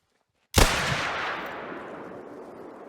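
A single loud rifle shot in The Hunter: Call of the Wild, a sharp crack after brief silence followed by a long echoing tail that fades over two seconds.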